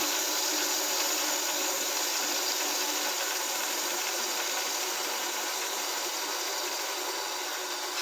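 Winch mechanism of a large Hasbro AT-AT toy from 2010 winding up, a steady high-pitched whirring, grinding hum that holds evenly and fairly close throughout, with no talking.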